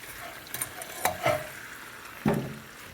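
Apples cooking in an 8-inch iron skillet give a soft sizzle, broken by a few distinct scrapes and taps as a utensil stirs the heaped pan, close and moderately loud.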